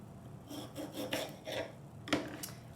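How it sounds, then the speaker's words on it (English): A lime is rolled between the hands on a cutting board, making soft, close rubbing and scraping strokes in a loose rhythm of several passes, faint and with no talk. "One good way to get really good juice from your lime is kind of roll it between your hands on the cutting board"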